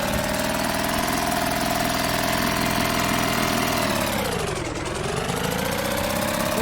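A boat engine idling in the game Martha Is Dead hums steadily and close, its pitch dipping briefly near the end before settling again.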